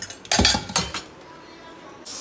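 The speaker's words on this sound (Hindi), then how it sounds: "बाकी जो बर्तन इनको धोने से रख देते हैं" Metal cooking pots and utensils clatter and clink as they are set aside for washing in a home kitchen after jaggery sweet rice is made, in a short burst of knocks early on, then a quiet hiss.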